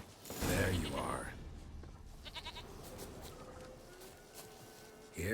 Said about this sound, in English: Here, goat.